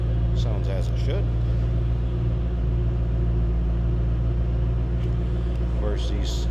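A supercharged V8 engine in a 2007 Ford Mustang Shelby GT500 idles with a steady low rumble throughout, and a voice briefly talks over it.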